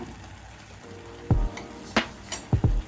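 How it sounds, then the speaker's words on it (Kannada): Drumstick palya sizzles softly in a pan while a spoon scrapes and stirs, with several distinct clanks of the utensil against the metal. "ಒಂದು 2-3 ನಿಮಿಷ ಹೀಗೆ ಫ್ರೈ ಮಾಡಿಕೊಂಡು ಆಲ್ಮೋಸ್ಟ್ ರೆಡಿ ಆಗಿದೆ"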